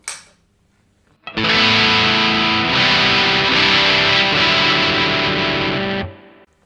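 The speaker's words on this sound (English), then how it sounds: "let's start messing around with the DS-1" An electric guitar rings out through a Boss DS-1 distortion pedal with light reverb, a single thick, bright chord sustained loudly for several seconds before cutting off.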